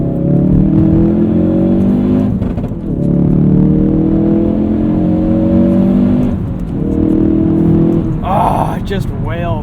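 A modified Ford Performance Focus RS engine wails loudly as it accelerates hard, rising in pitch through each gear with brief dips at the shifts, heard close from inside the car.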